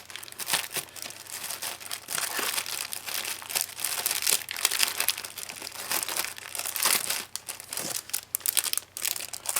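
Sheets of black scrapbooking stickers rustle and crinkle continuously as they are rummaged through nearby, steady papery handling with no talk.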